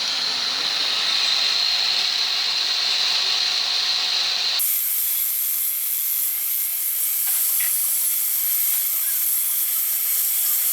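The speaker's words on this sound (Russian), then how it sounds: "Для этого берем наш набор шарошек и дрель." A drill spins a burr to grind excess weld from a KIA Sorento 2.5 cylinder head, giving a steady high hiss and whine, loud and close, that changes tone abruptly midway and runs on continuously without talk.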